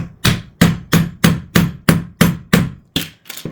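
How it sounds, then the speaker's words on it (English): A hammer strikes a Soviet analog electricity meter about ten times in a steady rhythm, each sharp, loud metallic knock close by and quickly decaying, with no talking. "Our hammer creates some vibrations, hopefully breaks this loose."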